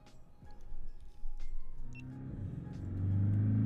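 A Porsche on a race track at the Los Angeles Porsche Experience Center, its engine rumbling low and building toward a loud, steady drone near the end of the lap, with no talking.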